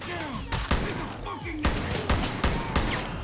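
Shotgun fire in Far Cry New Dawn: a series of loud, heavy blasts roughly every half second, close and booming, over game noise with some excited talk in the background.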